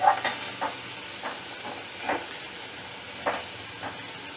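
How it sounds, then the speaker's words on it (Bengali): Okra and potato curry stirred in a pan, with soft scraping strokes at a slow, irregular rhythm over a low sizzle and hiss. "এবার ভালো করে নাড়াচাড়া করে নিয়ে"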